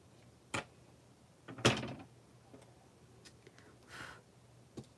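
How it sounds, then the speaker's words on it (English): Knocking on a house door during an indoor crafting livestream: a few sharp, separate raps spread over several seconds, fairly near and moderately loud against a quiet room. "I'm about to have someone knock on the door."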